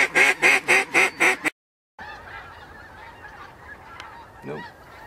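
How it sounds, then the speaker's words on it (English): A fast run of loud, harsh honking calls from waterfowl in flight opens the clip, then after a short gap comes a low outdoor hum with a faint distant call. "There's a duck."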